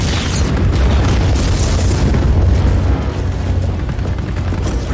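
Loud, continuous rumbling crashes and booms as a bridge is pulled down with a grapple in Just Cause 4, dense and sustained with heavy low-end impacts throughout.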